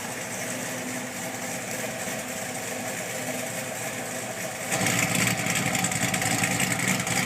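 A Corvette V8 with a big Stage 3 cam idles with exhaust valves closed, a muffled, steady rumble, then the engine revs up and the exhaust note grows louder and fuller for the last few seconds.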